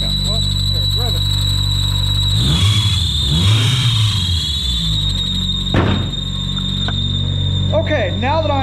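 A 2000 Mazda Miata engine idles with a high-pitched belt squeal, then is revved up and back down twice, close by, with a person's voice briefly heard near the end.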